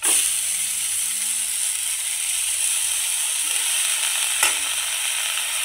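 Washed shepu (dill) greens hitting a hot pan with soaked moth bean dal, giving a steady, broad sizzling hiss that holds level throughout, with a brief clatter midway.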